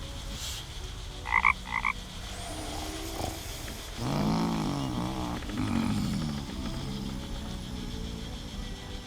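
A clicker frog in a fantasy game gives a few sharp ratcheting clicks early on, then a longer croaking, rasping call with a warbling tone, set against a soft ambient background.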